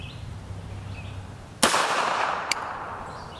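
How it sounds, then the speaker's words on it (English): A single loud gunshot from an M855 round during armor penetration testing, a sharp broadband crack followed by a long reverberant tail, with a second brief snap about a second later. "Here was our M855 shot, right on the money that time."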